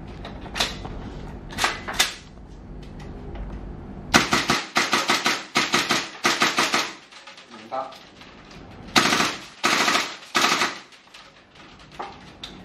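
A KWA Umarex HK416D gas blowback airsoft rifle is test fired in loud bursts and rapid strings of sharp cracks with a clacking bolt, broken by short pauses and mechanical handling, with a voice briefly heard.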